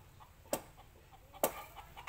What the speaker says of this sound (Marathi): तुम्ही बघितला नसेल असा कोंबडा।